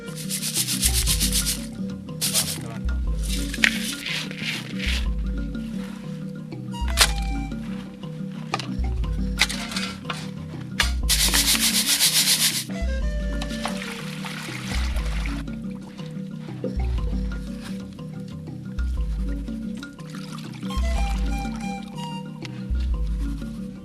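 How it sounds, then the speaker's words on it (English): Sand being sieved from grains by hand, a rough repeated shaking and rubbing that keeps a steady rhythm, loud and close, with no speech. "she sieves the sand from the grains and washes it for food"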